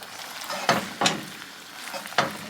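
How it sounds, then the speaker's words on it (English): Creamy one-pot mac n cheese being stirred in a pot, soft wet squelching strokes with a few sharper scrapes of the spoon, close and fairly quiet, no voices. "we'll give this a really thorough stir"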